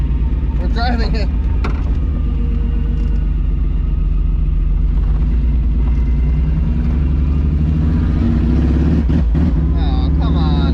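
A Toyota MR2 Spyder fitted with a 1MZ engine rumbles loudly and steadily as it drives, close up, with people talking excitedly over the engine throughout.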